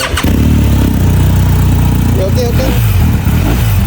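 A motorcycle engine cranks and fires up loudly, then settles into a steady, close rumbling idle with a few revs, while people talk nearby.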